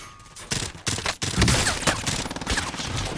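Rapid gunfire from a shooting video game rattles in loud, dense bursts that run almost without pause through the whole stretch, with brief dips between volleys.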